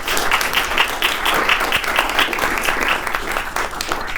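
An audience at a music technology keynote workshop applauds after a band is introduced, a dense, continuous patter of many hands clapping at close range, steady for a few seconds.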